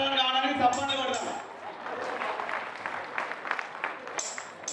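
An audience claps at a women's convention of the Andhra Pradesh and Telangana bank employees federation: a voice speaks briefly first, then a steady, dense patter of many hands fills the room at moderate volume.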